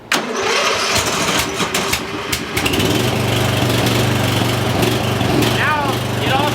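A Murray lawn mower with a small electrical fault cranks with choke on, sputters briefly, then catches and settles into a loud, steady engine drone at close range, with a voice speaking during the start.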